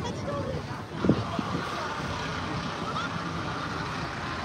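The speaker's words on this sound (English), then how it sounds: "It's windy now." Wind buffets a microphone outdoors near open water in Tsim Sha Tsui, Hong Kong, a steady rushing roar with a brief gust, while a voice speaks softly underneath.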